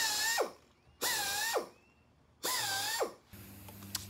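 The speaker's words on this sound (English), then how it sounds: "start drilling the holes out" Power drill boring holes through wooden boards for a cross bench, three loud whining bursts of about half a second each with pauses between, the motor pitch dipping as each stops.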